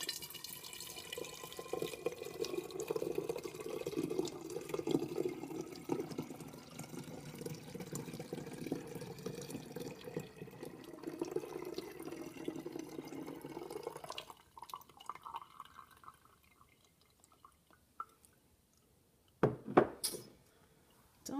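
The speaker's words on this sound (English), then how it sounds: "I'm going to pour it to strain out the ginger" Ginger ale poured through a seed sprouter set in a funnel to strain out the ginger, a steady close liquid stream running for about fourteen seconds, then a few faint drips and a short splash near the end.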